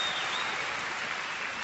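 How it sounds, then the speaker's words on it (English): An audience breaks into a brief, dense round of applause, steady even clapping that fills the whole short moment with no voices heard over it. "Round of applause."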